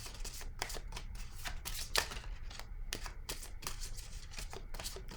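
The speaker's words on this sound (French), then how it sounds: "Je vais déposer une autre carte ici." Tarot cards slapped and laid down on a table, with repeated sharp, close taps and soft rustles at an irregular rhythm and no talk.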